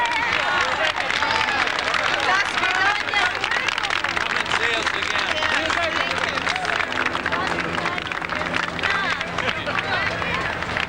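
Street crowd greeting Gorbachev, a dense continuous hubbub of many voices with scattered clapping and cheering, loud and close, people talking and shouting throughout.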